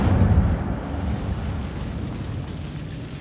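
A fiery Incendio spell cast in Hogwarts Legacy erupts as a loud, rumbling whoosh of flame that flares at the start and then sustains as a dense, roaring wash with no talk.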